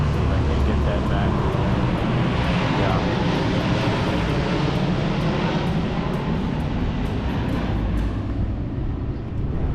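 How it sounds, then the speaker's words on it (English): A bomber aircraft flying near an air base in Singapore, a loud, sustained low engine roar filling the air throughout, with talk faintly mixed in beneath it. "We are actually near an air base, and so that's why we do see a lot of planes coming. It's a bomber."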